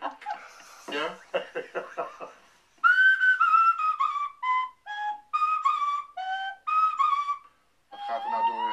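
A man plays a nose flute in a series of clear, breathy whistled notes, short phrases with brief gaps, close and fairly loud, after some laughter and talking at the start.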